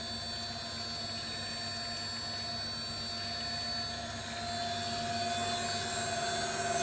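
A seed oil press used for sesame oil runs steadily at a raised speed, giving a constant mechanical whine and hum with tonal lines, moderately loud and alone, with no voices.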